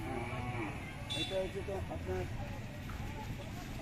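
Cattle moo repeatedly at a crowded cattle market, several low, drawn-out calls rising over constant background chatter from people nearby.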